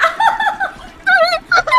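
A human voice imitates a chicken in a GTA V roleplay, producing warbling, clucking bursts in three short groups, loud and close.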